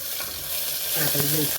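Spices with bay leaf, dried red chili, mustard seeds, cumin and ginger-chili-garlic paste sizzling in hot ghee for soya chunk masala khichdi, a brief close hiss with stirring scrapes, steady and bright, no speech.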